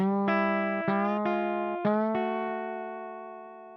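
A clean, bright guitar lick played alone, a handful of plucked notes sliding between pitches before one note rings out and decays.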